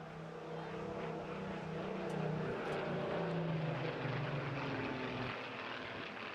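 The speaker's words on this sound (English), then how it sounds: "to watch a solo Spitfire grace the skies" A lone Supermarine Spitfire flies overhead at an air festival, its propeller engine droning as a broad, fairly distant roar that swells in the middle and slowly fades, with the pitch sliding downward as it passes.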